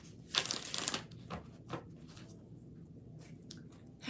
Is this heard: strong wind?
no